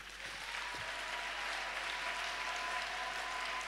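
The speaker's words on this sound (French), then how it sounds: "Je voudrais que nous puissions acclamer pour le Seigneur." A church congregation applauds and cheers for the Lord, a dense, continuous roar of clapping and voices sustained evenly throughout.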